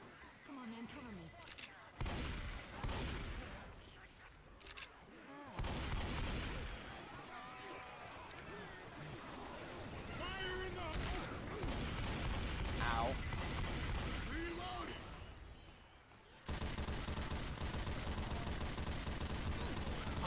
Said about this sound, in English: Now this is a shotgun I can load.